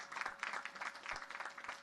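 A crowd claps at the Naval Academy graduation and commissioning ceremony, a steady, fairly distant wash of applause from many hands, fluttering without pause and moderately quiet.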